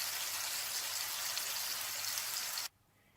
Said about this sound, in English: Then you just turn them over and let them cook for a little while more until they are golden brown.